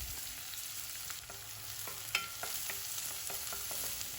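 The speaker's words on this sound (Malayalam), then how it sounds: "ഇനി സവാള നല്ലതുപോലെ വഴറ്റിയെടുക്കണം" Chopped onion and sliced green chilies sauté in a pan with cumin, giving a steady soft sizzle broken by scraping stirs of a spoon against the pan, close up and with no voices.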